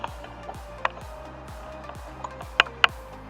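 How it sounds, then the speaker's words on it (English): Wrench tightening the four bolts of a car water pump, a steady rapid ratcheting clicks in repeating strokes, close, with a few sharper metallic taps near the end and no talk. "go back in and tighten these 4 bolts up that I took loose"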